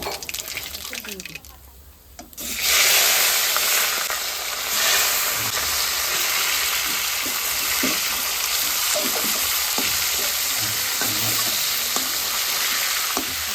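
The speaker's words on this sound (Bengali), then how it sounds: "একটু ভাজা ভাজা হোক সর্ষে আর পোস্ত আর কাঁচা লঙ্কা একসঙ্গে একটু ভাজা হবে" Loud, dense sizzling of mustard seeds, poppy seeds and green chillies dropped into hot oil, starting suddenly after a quieter moment and crackling steadily throughout.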